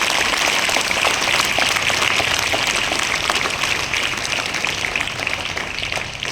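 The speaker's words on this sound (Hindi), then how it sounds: "इनके लिए जोरदार तालियां होनी चाहिए।" An audience at a school function applauds loudly for a student who won first place at district level, a dense, steady patter of many hands that tapers slightly toward the end.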